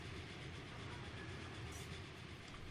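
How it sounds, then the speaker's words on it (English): The Norfolk and Western 611 steam train in the Transport Fever video game rolls along with a faint, steady rumble and rail noise, heard alone without talk. "Is the Norfolk and Western train there?"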